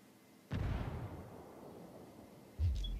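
A frag grenade detonates in a video-game firefight, a sudden loud boom with a long rumbling decay, followed by a second heavy blast near the end.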